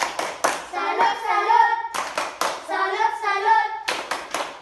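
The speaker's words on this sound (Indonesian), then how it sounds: "Tepuk salut untuk diri sendiri." A class of schoolchildren performs the 'tepuk salut' clapping routine in an Indonesian classroom: sharp rhythmic bursts of claps alternating with the group chanting together, repeated twice.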